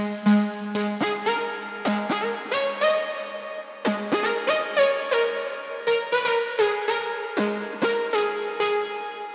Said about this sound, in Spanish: les voy a enseñar cómo hacer un lead para Melodic Techno